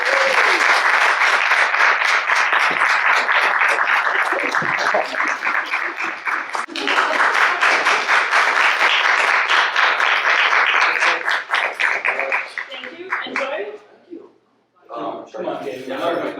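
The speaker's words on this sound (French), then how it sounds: "Mesdames et messieurs, applaudissez notre lauréat" Sustained audience applause fills a hall for the grand prize winner of a francophone quiz, steady and dense for about twelve seconds before thinning out, briefly dropping away, then picking up again.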